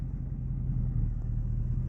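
A Ford F-150 race truck rolls along in drive with a low, steady rumble from engine and drivetrain, close and even, with no talking.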